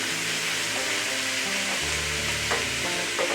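Fried rice frying in a hot pan with sesame oil and soy sauce, a steady loud sizzle with stirring scrapes throughout and no talking.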